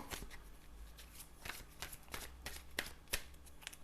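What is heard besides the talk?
tarot cards being drawn and handled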